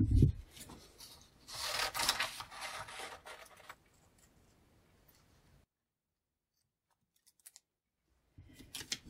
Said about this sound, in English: so I'm going to cut this out now.